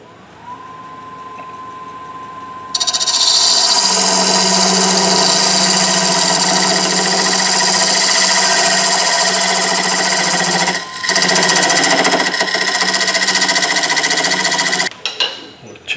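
Wood lathe turning a dovetail onto the end of a wooden doughnut cutter: a low hum, then loud steady cutting noise from about three seconds that briefly dips near eleven seconds and stops near fifteen.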